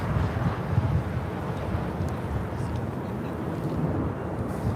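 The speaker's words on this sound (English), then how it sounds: "Wind, lots of it." Strong wind gusting steadily across the LAX airfield, a dense low rumbling roar buffeting the microphone throughout with no pauses.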